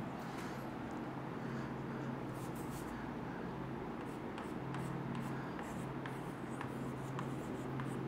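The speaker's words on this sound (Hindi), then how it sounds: "और एक और पॉइंट लिखेंगे हम" Steady scratching of a pen or marker writing a point on a board during a Hindi chemistry class, continuous and close over low room hum.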